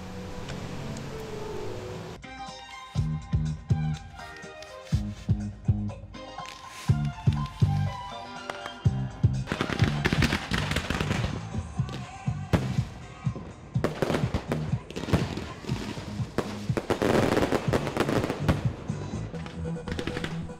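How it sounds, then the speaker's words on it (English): Rapid bursts of fireworks exploding, from scattered pops to a dense, loud barrage of crackling booms that continues without pause. "The fireworks adorn the night sky"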